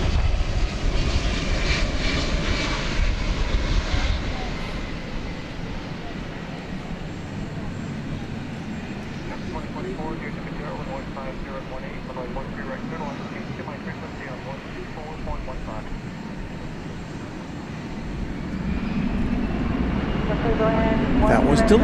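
A FedEx McDonnell Douglas MD-11 jet arrives at DFW Airport with a loud, steady broadband engine roar that holds throughout and swells again near the end, while voices talk over it.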